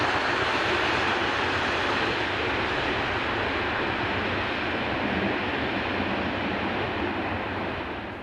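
An SNCF Class 36000 electric locomotive hauling freight into a yard in France, a loud, continuous broadband roar of passing rail traffic that stays steady and fades slightly at the end.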